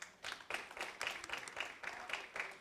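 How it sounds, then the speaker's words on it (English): A conference audience at a data event gives another round of applause to a speaker, many hands clapping in a quiet, distant, steady patter with small rises and falls, no voices over it. "Let's give her another round of applause."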